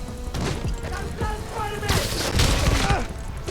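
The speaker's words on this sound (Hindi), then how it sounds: "भाई ये तो गोलियां चला रहा है यार" Enemy gunfire in the Spider-Man Miles Morales video game, bursts of shots and booms with impacts and game dialogue over them, growing heavier toward the end.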